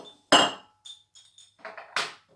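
A meat grinder attachment being fitted onto a Fakir Thorplex Plus food processor: a few sharp hard plastic clicks and clacks, one loud snap near the start and another toward the end, with small taps between, close and without talk.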